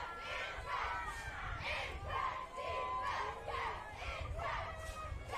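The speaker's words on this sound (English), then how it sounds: "Good crowd tonight." A large crowd at a high school football playoff game under the lights cheers and shouts in repeated swelling waves, heard from a distance as a steady roar with faint voices nearby.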